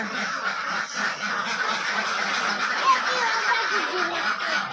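Village ducks quack nearby in a rural Bangladeshi homestead, a continuous chorus of nasal calls at moderate volume.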